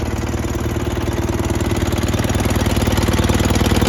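Onan B48M twin-cylinder engine idling on a Roper RT16T garden tractor, a loud, close, steady low thumping putter with an even rapid pulse and no voices.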